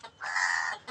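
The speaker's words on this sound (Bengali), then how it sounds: "এখন যেহেতু মুরগি আমি এখানে ট্রান্সফার করছি" A chicken in a backyard coop lets out one drawn-out, loud cluck-like call, framed by short softer clucks before and after.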